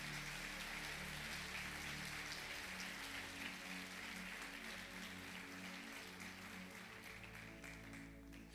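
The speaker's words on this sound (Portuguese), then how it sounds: "Aplauda o Senhor, se é para Ele, aplauda bem forte." Congregation in a church applauding steadily, a dense, even wash of claps with a low musical drone beneath that continues throughout, fairly loud and consistent for over eight seconds.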